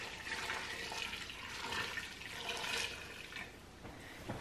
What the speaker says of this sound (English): we're going to fill it up with water